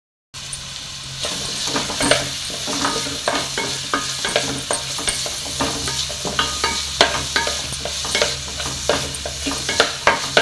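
Ingredients frying in hot oil in a heated pot for Goan fish patties crackle and sizzle continuously, with frequent scraping stir strokes, close and fairly loud.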